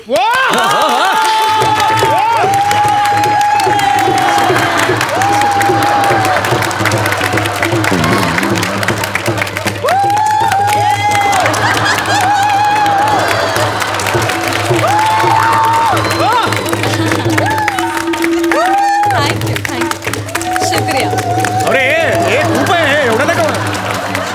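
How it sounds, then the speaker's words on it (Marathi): A Marathi comedy show audience applauds and cheers in a loud, sustained roar of clapping and crowd voices that barely lets up, with a performer's voice faintly mixed in. "अहो हे खूप झालं टाळ्या हो."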